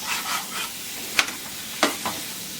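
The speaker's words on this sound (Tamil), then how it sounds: "அந்த எண்ணெயில் கொஞ்சம் நல்லா வதக்கணும்" Bitter gourd sautéed in oil in a pan: a steady faint sizzle with a few sharp scraping stirs of a spoon against the pan, close and without talk.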